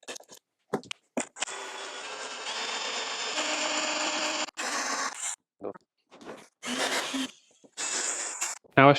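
A power drill whines drilling a hole in a 16-valve TwinCam cylinder head, in several bursts, one long run followed by shorter spurts, with clatter and brief stops between.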